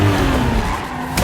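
A car driven by henchmen comes up fast from behind to ram a fleeing vehicle in a film chase scene, a short loud burst of engine roar and rushing road noise with no talk.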